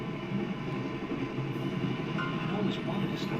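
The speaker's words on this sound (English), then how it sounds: "I always wanted to stop the train" A moving train rumbles steadily in the point-and-click adventure game Broken Sword: Shadow of the Templars, a continuous low rolling clatter with faint metallic ticks, moderately quiet and unbroken throughout.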